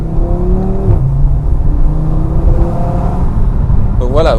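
An Audi RS3 Sportback's five-cylinder engine hums steadily while the car accelerates along a small country road, loud and close from inside the car, with a voice talking over it.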